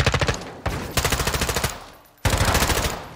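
Call of Duty firefight with three loud, close bursts of rapid automatic rifle fire, each a tight string of sharp shots separated by short pauses, with no voices over them.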